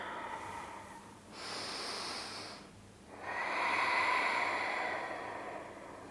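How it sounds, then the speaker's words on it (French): Slow, deep breathing during a yoga flow: a long airy inhale followed by a fuller, steady exhale, close and soft with no talking. "Encore, inspire et expire."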